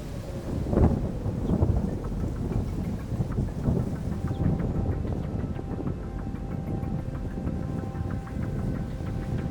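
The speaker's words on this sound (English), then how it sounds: "Camille Collins and Ashley Hurley, go outside to get a better look at the intensifying storm and begin recording the clouds." An intensifying thunderstorm near Smithville, with a strong crack of thunder early on, then a dense, continuous wash of rain and gusting wind buffeting the microphone, loud and close throughout.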